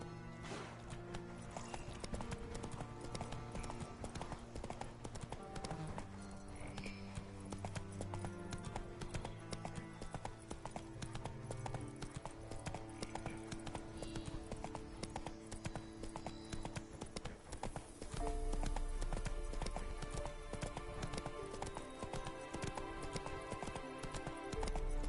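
Roach, the horse in The Witcher 3, trots with steady hoof clip-clop under a dense, constant bed of game music and ambience, the hoofbeats rhythmic and mid-distance.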